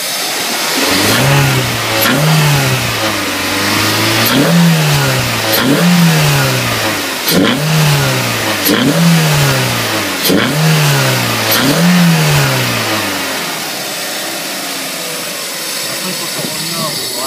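Peugeot 309 GTI 16 engine fitted with an F1-Z air intake, revved repeatedly in a steady rhythm of about eight rising and falling blips, loud and close, with intake suction audible, before settling back to a quieter idle.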